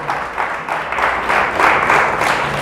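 A church congregation claps for God during a Christmas-season service, a short burst of fairly close applause that swells slightly toward the end, with no speech heard.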